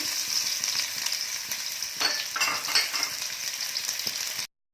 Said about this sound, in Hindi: अब मैं इसमें ये अनियन डाल दूंगी, इसको मैं गोल्डन ब्राउन कर लूंगी।